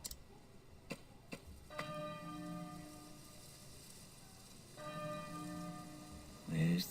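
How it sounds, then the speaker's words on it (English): A bell rings twice in an indoor scene, each strike a clear sustained tone that rings out and fades, preceded by a few faint ticks and followed by a brief low voice near the end. "There's the bell again."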